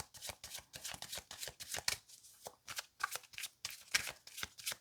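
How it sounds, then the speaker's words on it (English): A deck of tarot cards is shuffled by hand in quick, crisp riffling bursts and flicks, close and fairly quiet, with short pauses between runs and no talking. "Let's shuffle a little bit more, cut the deck."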